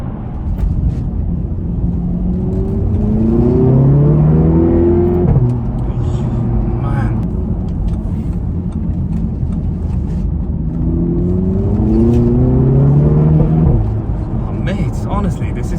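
Remapped Audi TT Mk3 2.0 TFSI quattro engine accelerating hard, heard from inside the car with rising intake and engine tone through two strong pulls, loud and close, with a gear change between them.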